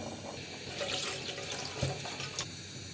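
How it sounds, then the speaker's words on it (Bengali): Milk from two packets pours into a pot for Bengali rice payesh, a soft steady liquid splash running close for a few seconds with no voices. "আমি দুই প্যাকেট দুটি দিয়ে দিলাম দুধটা"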